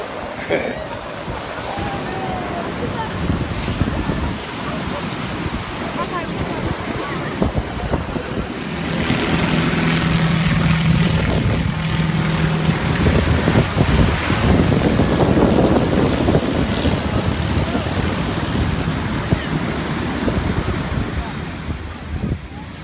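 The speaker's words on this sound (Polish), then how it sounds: "spacerek po plaży" On Copacabana beach in Rio de Janeiro, surf washes in steadily while strong wind buffets the microphone, swelling louder midway through, with a faint hint of voices in the background.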